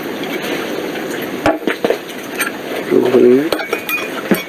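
Betadine stirred into water in a glass, giving soft swirling liquid sounds and a few sharp clinks of a utensil against glass, close and fairly loud, with a brief voice murmuring partway through.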